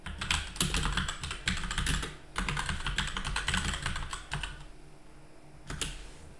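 Typing on a computer keyboard at a terminal: rapid runs of close, crisp key clicks in uneven bursts, pausing near the end before a final few keystrokes.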